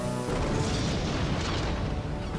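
A cannon firing in The Lego Movie video game, a loud, dense boom that starts abruptly and keeps rumbling for a couple of seconds with steady heavy energy, no voices over it.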